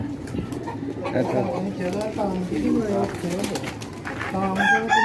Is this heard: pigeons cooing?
yes